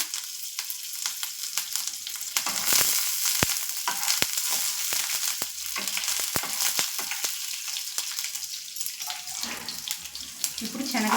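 Cumin, urad dal and curry leaves fry in hot oil with a steady, bright, close sizzle and crackle, punctuated by a few sharp pops and spatters throughout.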